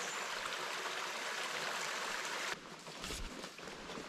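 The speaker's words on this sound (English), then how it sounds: "Waterfalls." Waterfall and stream water on the Appalachian Trail: a steady, close rushing flow that abruptly softens partway through into a quieter, gurgling trickle, with no voices.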